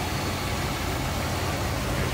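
A 1964 Buick Wildcat two-door hardtop's engine idles steadily and smoothly, a continuous low rumble with broadband hiss held at an even level throughout, with no voices.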